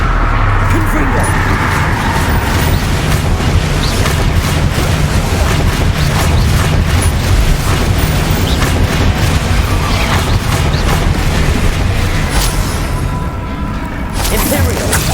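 Confringo blasting curse explosions in the Hogwarts Legacy video game boom and whoosh in a dense, loud, unbroken roar of spell combat, with voices mixed into the din.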